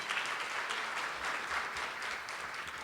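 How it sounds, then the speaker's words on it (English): Brief round of audience applause at a senior hall of fame ceremony, steady clapping from a crowd heard at a moderate distance, with no speech over it. "Let's give a round of applause to Charlotte"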